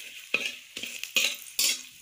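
Cinnamon and a bay leaf fry in a pan while a spoon scrapes through them in about five rhythmic strokes, each stroke a bright scratchy sizzle, close and distinct with no talking.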